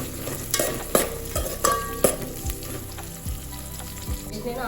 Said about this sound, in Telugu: ఇవన్నీ బాగా ఫ్రై అయిపోయినాయి.